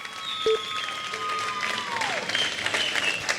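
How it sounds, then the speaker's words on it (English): An audience at a Wind Games 2017 2WD quarter final breaks into applause, a sustained wash of clapping mixed with a whistling tone and some faint voices. "A big round of applause, Emma."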